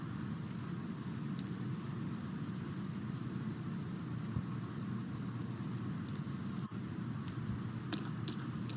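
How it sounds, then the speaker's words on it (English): Rain falls steadily in the video game Persona 4 Golden, a dense even patter that continues alone at moderate volume with no pause. "It's raining today."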